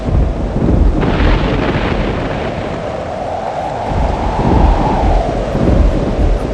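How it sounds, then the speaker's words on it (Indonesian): Thunder rumbles through a sudden storm striking a ship at sea from astern, deep booming swells mixed with wind and surging water, loud and continuous with no voices. "Badai tiba-tiba datang dari arah belakang kapal"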